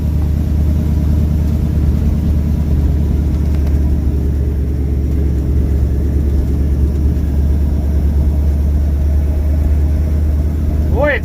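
A 1968 Dodge W200 Power Wagon truck engine runs while driving, a steady loud low rumble with constant road and cab noise throughout.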